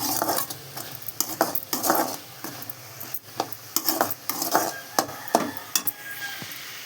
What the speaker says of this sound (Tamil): வெங்காயம் வதக்கிட்டு கீரை நல்லா சுண்டிட்டு